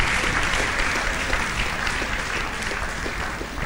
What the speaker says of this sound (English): Please, let's give another round of applause to Reverend Father.